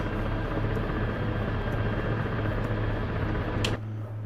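A helicopter rotor in a flight simulator game runs as a loud, steady mechanical whir and hum that cuts off abruptly near the end.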